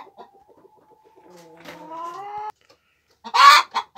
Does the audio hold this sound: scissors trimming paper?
no